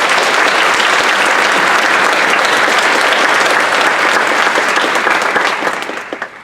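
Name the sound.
round of applause at graduation ceremony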